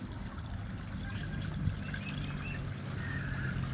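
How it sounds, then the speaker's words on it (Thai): Water trickles steadily down a small artificial waterfall set among bonsai trees, a continuous soft splashing flow with faint bird-like chirps in the background. "น้ำตกจำลองครับผม"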